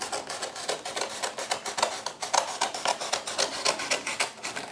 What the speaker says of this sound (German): Schneide ich hier einfach runter.